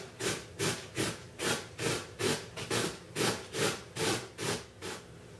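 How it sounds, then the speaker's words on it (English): Cabbage is shredded on a cheese grater for quick sauerkraut, with about a dozen evenly paced, close, rasping back-and-forth strokes. "for this quick sauerkraut recipe, I'm going to use this cheese grater."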